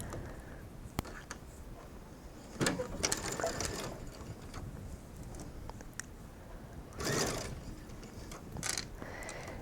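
A sewing machine runs a straight stitch at 2.5 length through mesh fabric, steady soft mechanical whirring with a few louder bursts and clicks, fairly quiet throughout.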